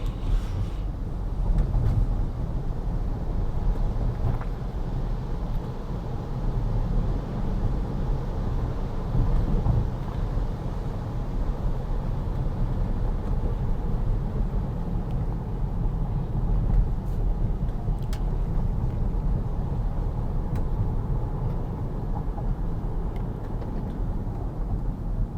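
A self-driving car cruises at steady speed, its road rumble and engine drone low and constant from inside the cabin, with no talking.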